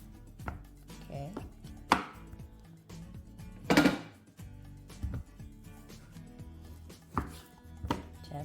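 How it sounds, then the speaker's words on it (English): A knife chops and slices through raw pork on a cutting board for homemade tocino, with irregular close thunks and taps at a steady unhurried pace, quiet and alone without talk. "So I will just slice this into 3 like this."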